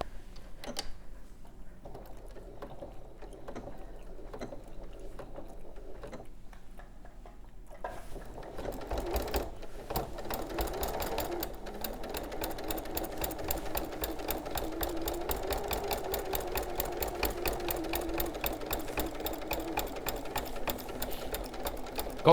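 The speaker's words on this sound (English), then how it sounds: "I'm just going to do a few locking stitches there, stitch around there, and just keep going" Sewing machine stitching a whirling windmills quilt near the edge at a 2.8 stitch length, starting with a few locking stitches and then a steady, close, continuous mechanical whir running at a constant pace.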